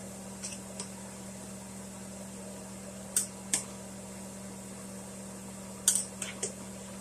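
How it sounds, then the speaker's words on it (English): Chicken and dumplings are stirred gently in a pot, with a few faint scattered clinks of a utensil against the pot over a low steady hum, quiet and sparse. "Stir it gently."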